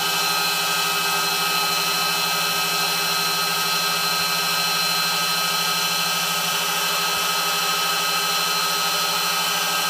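Steady, loud high-pitched whine of an internal tool post grinder running on a lathe, a constant motor hum with strong tonal harmonics and no variation across the whole stretch.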